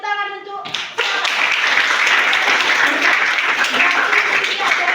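A school class bursts into applause during a biotechnology lesson, a short voice first, then loud, sustained clapping from many hands close by.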